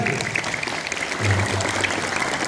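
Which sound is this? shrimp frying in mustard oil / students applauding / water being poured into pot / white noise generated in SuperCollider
students applauding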